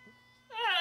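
An anime cat from Osomatsu-san meows once, a short rising cry that enters abruptly after a quiet stretch and holds loud to the end.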